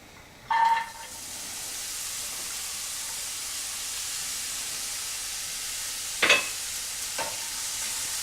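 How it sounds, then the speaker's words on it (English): Diced onion, carrot and chopped garlic drop into hot extra virgin olive oil over medium heat, giving a steady soft sizzle with a short clatter at the start and brief stirring scrapes later on. "I have heated some extra virgin olive oil in medium heat, and I'm going to add 1 medium onion, 1 carrot, both diced, and 2 cloves of garlic chopped"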